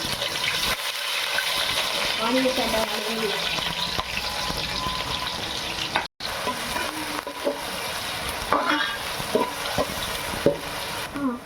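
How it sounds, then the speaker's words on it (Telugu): Thinly sliced onions dropped into hot oil with fenugreek and mustard seeds, sizzling steadily in the pan with stirring scrapes and a few sharper clinks, close up. "ఇందులో మనం కొంచెం మెంతులు, కొంచెం ఆవాలు వేగిన తర్వాత ఇందులోనే ఎర్రగడ్డలు వేసుకోవాలి"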